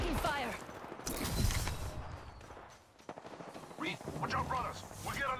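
Enemy gunfire in the battle royale game Apex Legends, with bursts of rapid shots in the first half, a brief lull, then more scattered firing, heard under and between a player's talk.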